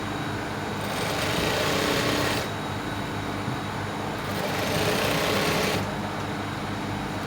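A sewing machine stitches fabric for a shirred crop top, whirring in two sustained bursts of a few seconds each, separated by brief pauses, close and steady.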